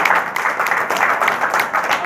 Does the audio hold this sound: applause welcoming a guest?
yes